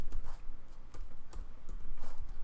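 Rapid keystrokes on a computer keyboard while entering code in Excel VBA, a run of light irregular clicks close by, with no talk.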